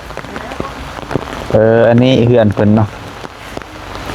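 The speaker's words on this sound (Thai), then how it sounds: "ฝนตกหนักมื้อนี้" Heavy rain falls steadily as a dense, close hiss and patter throughout, with a person speaking over it in the middle.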